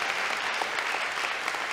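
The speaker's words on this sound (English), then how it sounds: "give God a hand clap of praise for that" Church congregation giving a round of hand-clap praise during a worship service, steady dense applause from many hands throughout, no talking over it.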